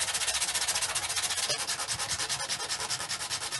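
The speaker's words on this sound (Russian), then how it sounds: "Теперь сейчас горлышко шлифанем." The neck of a plastic bottle is sanded by hand, a close, steady, rasping scrape in quick regular back-and-forth strokes, about four per second, with no voices.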